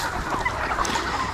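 A flock of corn-fed laying hens, about 2 kg each, on a farm, raising a dense, continuous chorus of clucking and squawking calls that overlap steadily throughout, close by and fairly loud.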